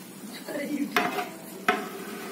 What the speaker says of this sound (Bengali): এখন দমে রাখা বিরিয়ানিটি নাড়া হবে, সুন্দরভাবে মিলিয়ে দেওয়া হবে